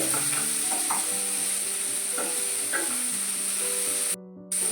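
Chicken parts frying with curry leaves, stirred in a pan: a steady, bright sizzle with soft scraping stirs, close and continuous, briefly cutting out near the end.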